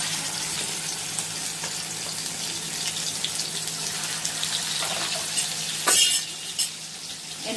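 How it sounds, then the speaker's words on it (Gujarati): Ginger, garlic and chili paste hits hot oil in a pan and sizzles steadily, with a brief louder burst of spattering and stirring near the end; no one speaks. "હવે એની અંદર આપણે આદુ લસણ મરચાંની પેસ્ટ નાખીશું."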